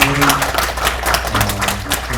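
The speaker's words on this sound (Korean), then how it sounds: "박수 한번 쳐드릴까요?" Applause from the audience at a panel discussion seminar, with brisk clapping layered over a low hum and some background voices, the whole clip short and fairly loud.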